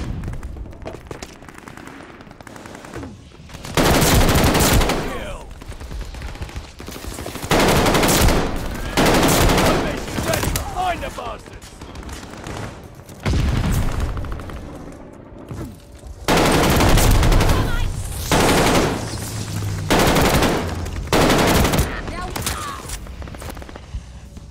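Rapid bursts of KG 40 automatic gunfire from Call of Duty Vanguard come in several loud clusters with short gaps, mixed with game effects and occasional voice.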